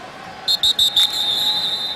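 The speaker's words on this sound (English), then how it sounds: "And we get a whistle." A referee's whistle at a 2010 NFL preseason American football game between the Chargers and the Saints sounds four short, shrill blasts in quick succession, fairly close, over a low crowd murmur.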